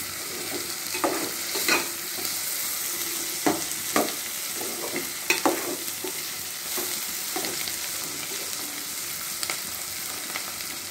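Ginger and gongura leaves frying in oil for a homemade cauliflower and tomato curry, a constant bright sizzle close by, broken by intermittent scraping and tapping of a spoon in the pan.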